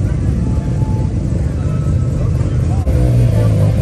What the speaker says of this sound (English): we're moving away from all the crazy noise over there, from all the people driving by